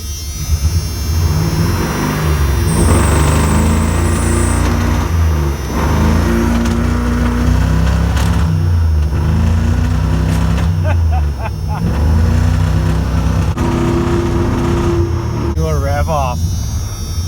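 A rough-running 1997 Ram 1500 pickup engine idles unevenly and loud up close, its low throb lurching and surging with misfire-like stumbles, a fault suspected in the timing chain, while it smokes.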